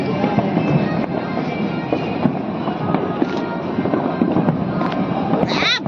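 Firecrackers bursting all around on a street during a New Year's Eve celebration, dense overlapping pops and bangs at varied distances forming a continuous loud crackling din.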